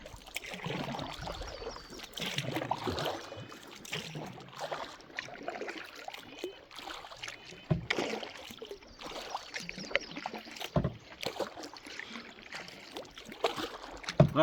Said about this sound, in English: All right, we're going to keep paddling.